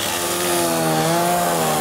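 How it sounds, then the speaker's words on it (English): A chainsaw runs steadily at high revs while carving wood for art in DeBerry, Texas, its loud, close engine drone holding for the whole stretch without pauses or talk. "When I pick up the chainsaw, I'll take over the whole show."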